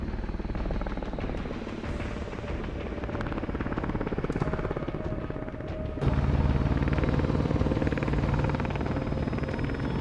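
Military helicopters roar through a large-scale assault in a night-operation cinematic from the Broken Arrow video game, a loud, continuous rotor thump and engine drone that swells louder and fuller partway through.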